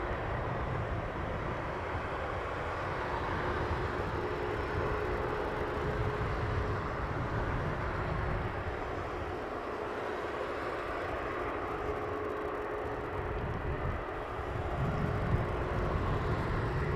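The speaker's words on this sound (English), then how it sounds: "WestJet 664 from Calgary, 737." WestJet Boeing 737 arriving from Calgary, a steady low jet engine rumble at moderate distance, holding level for most of the stretch and swelling slightly near the end.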